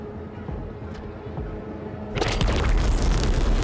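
A video game explosion erupts partway through: a sudden, loud, broadband boom that swells into a sustained rumbling roar after a quieter stretch of game background.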